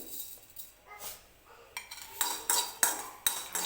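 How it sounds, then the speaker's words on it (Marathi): Cumin seeds tossed into a pan of coconut already roasted golden for a Marathi khar vangi dish, giving scattered metallic clinks and scrapes of a spoon against the pan, growing louder and sharper toward the end. "थोडंसं जिरं टाकते मी"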